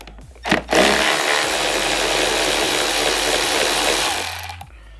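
A Milwaukee power ratchet backs out Torx bolts on the hood of a 2013–2016 Ski-Doo XM snowmobile, giving a loud, steady mechanical whir that runs for about three and a half seconds before cutting off.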